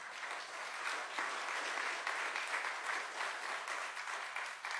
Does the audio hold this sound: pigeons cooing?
no